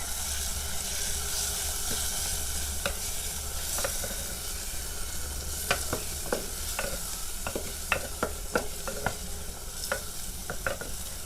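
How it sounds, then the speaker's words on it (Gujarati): A ladle stirs tomato rice seasoned with turmeric and cumin-coriander spice powder in a pan. Steady close sizzling and frying hiss runs throughout, broken by sharp ladle clicks and scrapes that come every second or so, more often toward the end. "હવે આપણે કડછીથી હલાવી નાખી"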